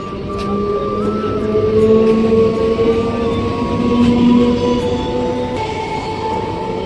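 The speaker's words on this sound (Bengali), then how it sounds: "আর এদের ডাউন ট্রেনও যাচ্ছে, দেখতে পাচ্ছে সব ডাউন ট্রেন" A down train rolls past the Baunagachi station platform in the evening, a loud, steady rumble with long tonal whines holding throughout.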